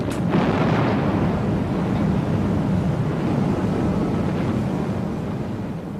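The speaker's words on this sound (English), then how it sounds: "A broadside of all 4 turrets pulverized the German positions with a ton of shells every" HMS Belfast's four gun turrets fire a broadside, a heavy booming blast at the start that rolls into a long, loud, dense rumble of echoing gunfire and reverberation.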